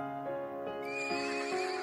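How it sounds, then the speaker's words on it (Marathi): A horse neighs in a rising, wavering whinny, close and clear, with a few soft hoof thuds underneath. "HORSE."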